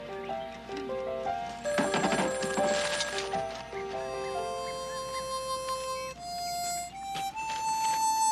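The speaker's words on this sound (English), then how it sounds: "That was Dr. Ciovica on the phone." Telephone ringing in a TV drama scene, a bright bell-like ring mixed with background music tones, moderately loud and continuous.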